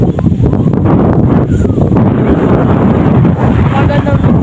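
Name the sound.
strong wind outdoors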